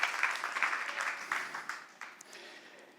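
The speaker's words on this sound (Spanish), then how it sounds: "Oye, eso merece un aplauso al Señor" A church congregation at a Sunday worship service applauds in a brief burst of scattered clapping that fades over a few seconds, fairly faint and roomy.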